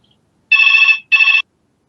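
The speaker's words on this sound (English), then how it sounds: "Hope someone needs a kidney transplant for that ringtone." A loud, piercing phone ringtone sounds in two bursts, a long ring followed by a short gap and a shorter second ring, alone with no talk.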